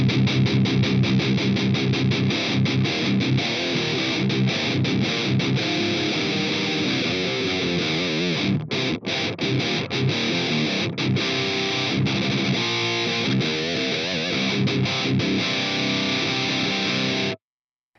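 Electric guitar through an Atomic Amplifire running a Mark IV amp model plays a loud, continuous distorted riff that stays dense and sustained, with brief choppy gaps near the middle, then cuts off abruptly at the end.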